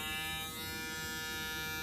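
A TPOB GO cordless hair clipper runs with a steady electric motor buzz, close and continuous, with no voices.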